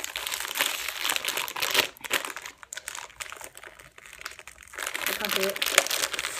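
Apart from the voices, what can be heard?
blind bag plastic packaging being torn open by hand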